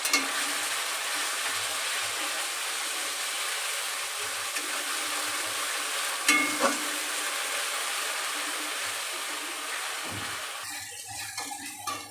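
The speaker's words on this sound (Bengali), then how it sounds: "মশলাটা প্রথমে একটুখানি এইভাবে হালকা ভেজে নিয়েছি" A ground paste of onion, ginger, garlic, tomato and cumin fries in oil with a steady, dense sizzle, one brief stir clatter midway, and the hiss thinning near the end; no one speaks.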